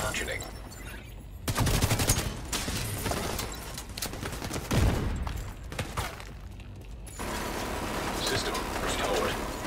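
Sustained bursts of automatic gunfire and dense firefights in The Division 2 on PS4, loud and near, with rapid overlapping shots throughout and a voice speaking over part of the action.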